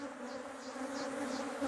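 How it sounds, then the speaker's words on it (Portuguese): Honeybees swarm over a hive frame during a colony split, a quiet, steady buzzing hum with faint wingbeat swells drifting close by. "Um quadro aqui com bastante abelhas."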